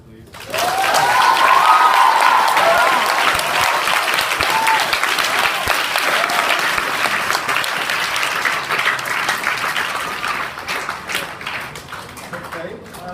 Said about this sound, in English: Can we have one more last round of applause, please?